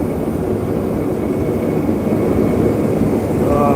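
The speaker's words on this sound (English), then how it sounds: "Can you hear me over this fucking pulse jet?" A pulse jet engine runs steadily and loudly, a dense continuous roaring rumble with a rapid pulsing buzz, heard alone and close throughout.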